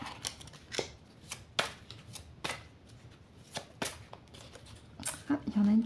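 Oracle cards being shuffled by hand, a series of soft, crisp riffling bursts at irregular intervals, close and fairly quiet, with a voice speaking briefly near the end.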